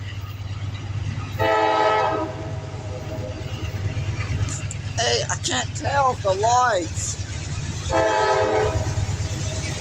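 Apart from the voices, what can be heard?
grain train passing with horn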